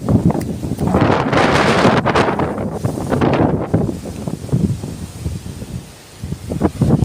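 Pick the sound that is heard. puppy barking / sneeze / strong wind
strong wind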